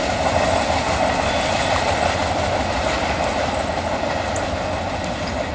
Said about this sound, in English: Wow, short train.